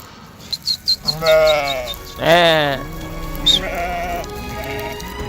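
Several sheep bleat close by in Turkey, some short cries then a long wavering bleat, with a faint patter of rain in the background.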